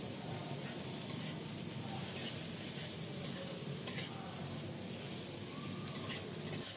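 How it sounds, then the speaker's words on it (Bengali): Dried loitta fish frying with onion and garlic in a pan, giving a steady, close sizzle broken by soft stirring scrapes that run throughout with no voices. "পেঁয়াজ রসুনের সাথে শুটকিটাকেও একটু কষিয়ে নিলাম"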